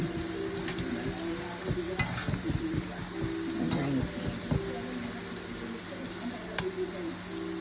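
French fries frying in a pan for an early evening dinner, a steady sizzle with scattered stirring clinks and scrapes against the pan, close and continuous.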